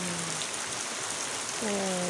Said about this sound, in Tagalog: Maulan nakabuntagon.